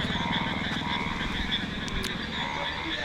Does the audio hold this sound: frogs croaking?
yes